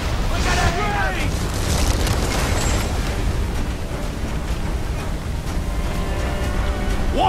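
Cannons fire from ships in a naval battle in Assassin's Creed IV: Black Flag, booming loudly and continuously over crashing water and game noise, with shouted crew voices mixed in.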